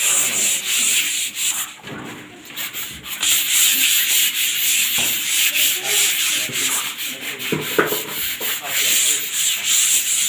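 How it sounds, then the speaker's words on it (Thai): Sandpaper rubbed by hand over dried skim-coat plaster on a wall, a loud, steady rasping scrub in continuous back-and-forth strokes with brief pauses, close and alone. "การขัดปูนสกินนะคะ นี่นะคะหลังจากที่เราทาไป หนึ่งรอบ แล้วเราก็ขัดนะคะ"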